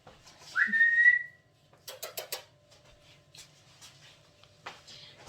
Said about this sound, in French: Si vous m'entendez siffler, c'est parce que j'appelle mon chien.